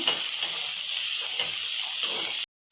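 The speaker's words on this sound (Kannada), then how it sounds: "ಈರುಳ್ಳಿ ಸ್ವಲ್ಪ ಕೆಂಪಗಾದ್ಮೇಲೆ 2 ಹಸಿಮೆಣಸಿನ್ಕಾಯಿ ಹಾಕ್ತಾಯಿದ್ದೀನಿ, 1 ಕ್ಯಾಪ್ಸಿಕಮ್ ಹಾಕ್ತಾಯಿದ್ದೀನಿ. ಇದನ್ನು ಸ್ವಲ್ಪ ಹೊತ್ತು ಫ್ರೈ ಮಾಡ್ಕೋಬೇಕು." Onion, green chillies and capsicum frying in a pan for vangi rice bath, a steady loud close sizzle with faint stirring underneath, cutting off abruptly near the end.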